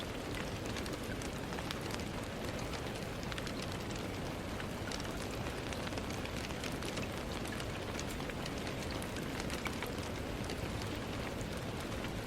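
Steady rain falls heavily and evenly throughout, a dense continuous hiss of drops with scattered patters and no voices.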